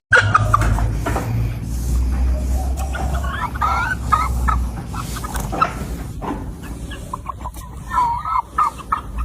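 Shamo chickens, imported Japanese-German game fowl, cluck and call close by, with a rooster's voice among them in a busy, continuous flock chatter.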